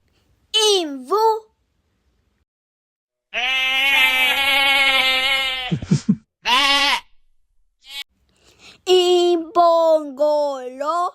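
A farm sheep lets out one long, wavering bleat, loud and close, between short bursts of a voice speaking.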